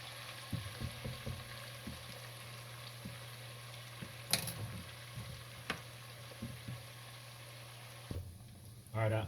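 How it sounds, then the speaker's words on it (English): Onions fry in a pot for sausage, shrimp and okra gumbo, a faint steady sizzle under a low hum with scattered clicks and light stirring knocks, one sharp clatter midway and a louder burst at the end. "Alright, our onions still frying."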